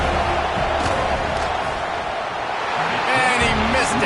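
Stadium crowd noise in a Madden football video game as the kicker lines up for a field goal, a loud continuous roar of many voices with whistles and shouts swelling toward the end.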